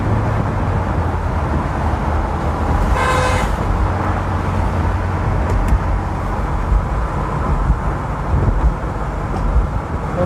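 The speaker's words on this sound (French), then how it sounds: "On se fait klaxonner parce qu'on cruise." A car horn gives one short honk at a cruising car, heard partway through over steady, loud road and engine rumble from surrounding traffic.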